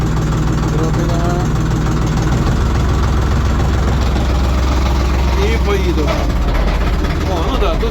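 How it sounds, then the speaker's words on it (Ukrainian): A small LOVOL tractor with a cab, in reverse, its engine loud and close with a low diesel rumble that swells a little as the throttle opens, while someone talks over it. "Включаємо задню. От. Трохи. Трохи газу дамо зараз."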